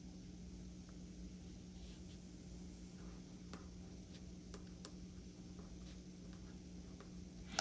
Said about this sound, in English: we are going to write down the month of March